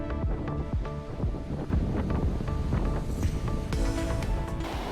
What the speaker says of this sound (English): So it's a tough beating against the wind, but it's fun since the waves are quite flat.